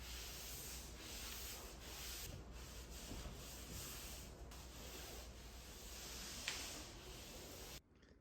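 An Inokraft drywall sander scrubs dust off walls, a steady close abrasive rubbing with a constant motor whine, running for most of the clip before cutting off abruptly near the end.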